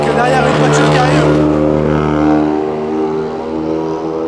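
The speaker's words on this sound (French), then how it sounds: "Avec derrière une voiture qui arrive" A loud race car with unmuffled exhaust approaches at a track, its harsh, steady engine drone holding strong throughout and easing only slightly toward the end, with a voice talking over it.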